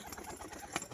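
A pigeon on a rooftop coos softly and briefly at a distance, a low faint call set against light outdoor background noise.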